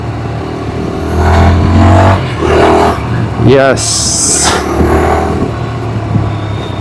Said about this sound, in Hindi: ये चीज़ आप जब इस बाइक को एक्सेलरेट करोगे तभी आपको पता लग जाएगा